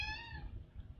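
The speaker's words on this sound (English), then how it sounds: "I always have a cat coming to visit me." A cat gives a single short, high, falling meow close by in a quiet room, followed by low background rumble.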